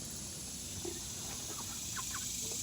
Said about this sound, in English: They're all my chickens.